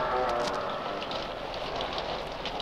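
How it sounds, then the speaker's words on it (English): Heavy rain pours onto rocks, a dense continuous hiss with scattered sharper splashes, close and steady throughout. "the rains came and soaked and drenched and pounded on the rocks"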